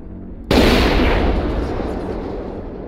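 Marauder II mech weapons fire in MechWarrior Online, a single sudden loud blast that hits hard, then rolls into a long booming rumble that fades slowly over a few seconds with no voices.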